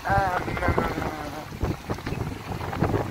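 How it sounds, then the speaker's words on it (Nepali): Gusty wind buffets the microphone in a steady low roar, with a voice briefly audible at the start. "हावाको सुन्नुभयो होला होइन, चिसो"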